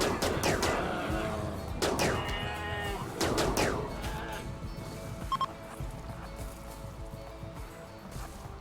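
Masterwork charge rifles in RimWorld fire at polar bears, giving a few sharp, loud energy-weapon shots in short bursts near the start, then fading into quieter game ambience.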